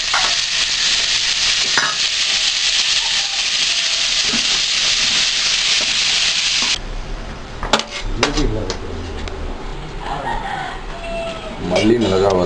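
Onion and tomato frying in sesame oil in a wok-style pan, a strong, steady hiss that cuts off partway through, followed by clanks, scrapes and a rooster-like call in the background.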